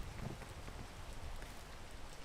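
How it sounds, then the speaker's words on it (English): Rain falls in a video game as a steady, faint hiss of dense drops, an even wash of sound with no voices or other distinct events. "Oh no, not the rain too."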